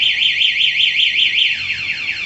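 A Toyota Grand Filano's anti-theft alarm wails in a rapid, steady warble, then switches to a faster run of falling sweeps. Loud, close and continuous, with no voices.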